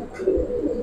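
Pigeons, a pair of ornamental Giribaz or coloured fancy birds, give a soft low coo that swells and fades across a short moment, close by and alone.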